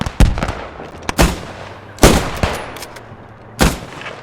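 Artillery and gunfire in the video game PostScriptum during a French versus German urban night fight: several loud, close, sharp blasts at irregular intervals, each with a rumbling tail.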